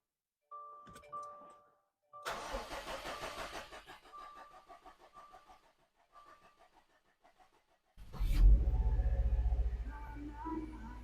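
A 2019 Subaru STI returned to stock cranks with a whirring starter, goes quiet, then fires up near and loud and settles into a low, steady idle.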